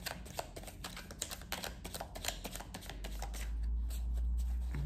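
Tarot cards are shuffled up close in a quick, riffling patter of soft slaps and flicks for several seconds, then it settles into a low, muffled rumble.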